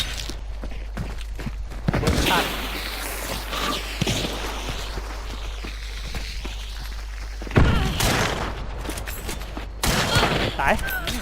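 Rapid bursts of video game gunfire crackle through the clip, with heavy thuds and a loud volley near the middle and another toward the end, over a steady low rumble.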